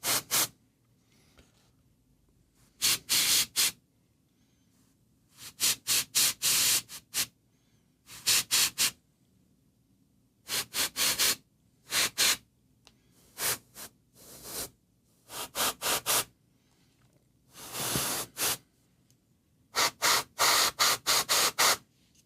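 Paint sprayed onto a surface in short hissing bursts, roughly a dozen separate blasts of varying length with silent gaps between, close and fairly loud with no talking.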